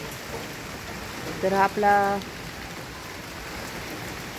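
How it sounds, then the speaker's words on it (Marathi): Heavy monsoon rain falls steadily in Pune, heard from a window or balcony as a soft continuous hiss, while someone speaks briefly over it. "आमच्या इकडं पुण्यामध्ये बघा दुपारपासून पाऊस चालू झालेला आहे"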